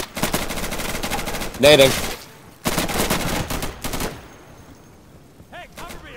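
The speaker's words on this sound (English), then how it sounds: "Somebody's shooting at us." Close gunfire in Insurgency, a rapid burst followed by a second longer volley, with shouted voices in between and quieter noises afterward.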